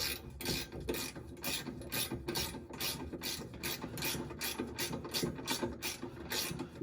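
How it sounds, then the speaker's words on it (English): Harbor Freight ratcheting wrench being turned while installing a tow bar on a 1971-up VW Super Beetle, a quick repeated clicking ratchet rhythm, close and steady throughout. "I got my little ratcheting wrenches here from Harbor Freight Tools"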